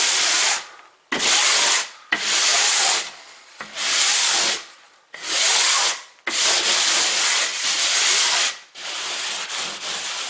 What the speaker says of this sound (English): we're going to do one final step, and that's a really, really light sanding